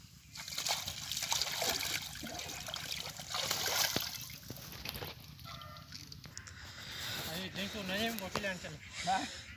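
Water runs and splashes as radishes, carrots and other vegetables are washed outdoors, the sloshing rising and falling in bursts while people talk nearby.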